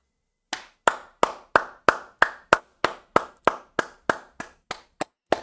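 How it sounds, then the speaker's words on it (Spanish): A single person claps their hands about fifteen times in a steady, close, sharp rhythm, each clap distinct and alone with no voices, during a talk about a Boca Juniors win over River Plate. "Este aplauso es para el mejor defensor del fútbol argentino"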